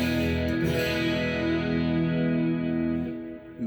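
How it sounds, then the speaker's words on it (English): A headless multiscale prototype guitar plays in a heavily effected clean tone with long reverb and a possible chorus. A sustained, shimmering chord rings out and slowly fades, with no talk. "it's my clean tone, so that's very affected. It's got a long reverb on there."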